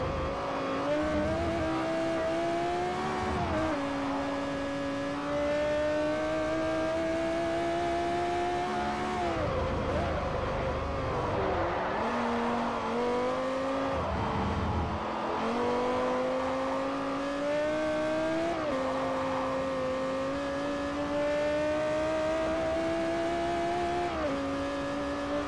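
Race car engine in Forza Motorsport 4, loud and close, revving high through repeated upshifts with rising and falling pitch sweeps, brief lifts and tire squeal, running continuously without talk.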